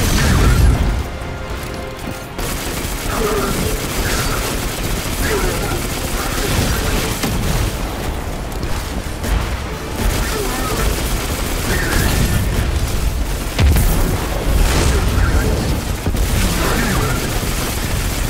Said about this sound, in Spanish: ¡Explosiones everywhere!